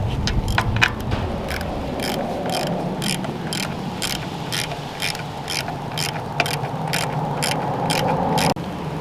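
Hand ratchet snugging a PCV valve on a 2007 Scion tC, steady rhythmic clicking of the pawl repeating throughout at close range over a low background hum.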